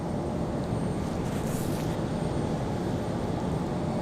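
Airplane landing at Raleigh-Durham airport with landing gear down, a broad steady roar of jet engines and rushing air, fairly loud and continuous.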